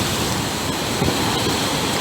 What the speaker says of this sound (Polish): Patrzcie, jakie wzburzone morze.